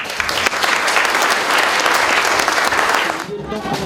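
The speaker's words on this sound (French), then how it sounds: "je crois que vous méritez tous les deux également des applaudissements" Sustained applause from an audience at a Sainte Barbe firefighters' ceremony, loud and dense for over three seconds before thinning out near the end.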